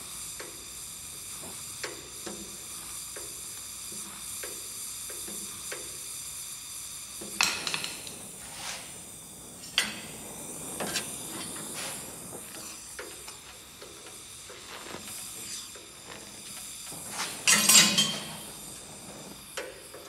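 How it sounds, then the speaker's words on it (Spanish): Welding on cracked sheet metal of a 1962 Ford Falcon body, with crackling hiss and sputtering bursts alongside intermittent clanks and a louder sizzling flare near the end, fairly close. "Acá está rajado y estamos soldando."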